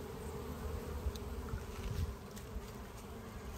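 Darker-colored Caucasian honeybees buzzing around a backyard hive on a warm February day, a steady close drone with individual bees whizzing past.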